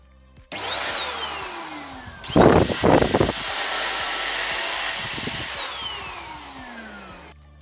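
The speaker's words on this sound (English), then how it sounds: "I think I'm going to bring it downstairs and use the DAT vac. It's just a high power blower." A high-power DataVac electric blower whines steadily at close range, starting abruptly, dipping in pitch midway, then running on before cutting off, with a few clattering handling noises partway through.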